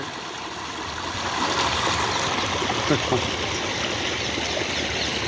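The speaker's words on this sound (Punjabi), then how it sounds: "ਸੀਵਰ ਦਾ ਪਾਣੀ ਕਿਵੇਂ ਦੇਖੋ ਵਹਿ ਰਿਹਾ ਕਿਵੇਂ ਝਰਨਾ ਵਹਿ ਰਿਹਾ" Sewer water pours steadily like a waterfall at a government hospital building, a continuous loud rushing wash with a voice briefly audible.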